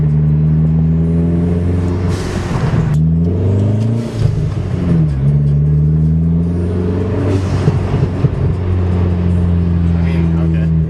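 Engine of a lowered daily-driver car while driving, a loud humming drone whose pitch rises and falls as it shifts and revs, with a person talking over it.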